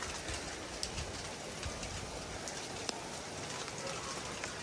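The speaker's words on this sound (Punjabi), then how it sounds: "ਅਚਾਨਕ ਹੀ ਨਾ ਬਾਰਿਸ਼ ਸ਼ੁਰੂ ਹੋ ਗਈ ਆ" Steady rain patters over a village house in a hot Pakistani rural setting, a dense broadband hiss with occasional sharper drops, while a pigeon coos faintly in the background; no one speaks.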